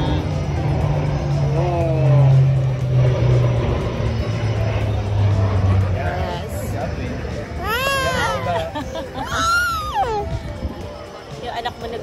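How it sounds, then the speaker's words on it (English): An airplane approaches at the Cold Lake air show in 2022 as a steady engine drone and rush that builds from a distance beneath nearby chatter, children's voices and crowd noise. "Parating na plane."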